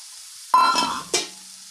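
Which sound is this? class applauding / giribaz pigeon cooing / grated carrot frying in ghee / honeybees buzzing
grated carrot frying in ghee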